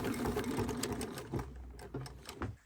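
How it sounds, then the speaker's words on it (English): Sewing machine stitching a bag handle into the corner seam of a dopp kit utility bag, a fast close mechanical whirr running steadily, then breaking into shorter bursts near the end. "We're stitching in the handle as we close up the corner of the bag."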